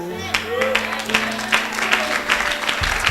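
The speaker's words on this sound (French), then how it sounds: "pourquoi tu acclames comme ça?" A Sunday church congregation claps and cheers in an enthusiastic rhythmic wave, with sharp clap bursts and shouted voices over a low hum and some bass tones, loud and close throughout.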